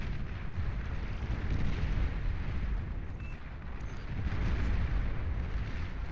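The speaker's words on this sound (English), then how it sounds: "Shelling away at basically all of this front line here until pretty much none of it is left" Artillery shelling pounds a front line in the real-time strategy game Beyond All Reason, an 8v8 deathmatch, as a continuous low rumbling din of overlapping explosions that swells and ebbs, with faint higher blips over it.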